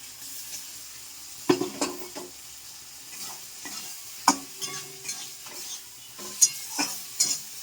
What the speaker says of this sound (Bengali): এবার আমি এই ভাজা আলুগুলো এর মধ্যে দিয়ে দেবো